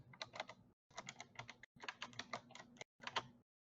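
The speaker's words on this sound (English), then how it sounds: "I love the sound of that keyboard." Rapid typing on a computer keyboard, dense bursts of crisp close key clicks in four runs separated by short pauses, quiet and without talk.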